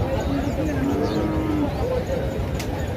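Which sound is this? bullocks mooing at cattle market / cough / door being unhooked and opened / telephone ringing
bullocks mooing at cattle market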